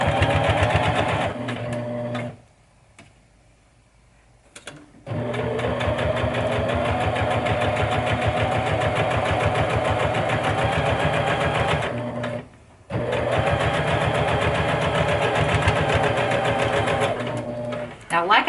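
A sewing machine top-stitches a zipper on a simple zipper bag, running in long steady bursts of close mechanical whirring, stopping briefly twice before resuming.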